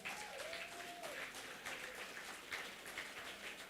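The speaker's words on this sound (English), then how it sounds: "give yourselves a round of applause" Delegates at a Saint Lucia Labour Party conference applaud themselves, a faint, distant spread of clapping in a hall with a brief voice or whistle at the start, sustained evenly for a few seconds.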